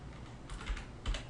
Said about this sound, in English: if I just start typing 407, I notice that I get some entries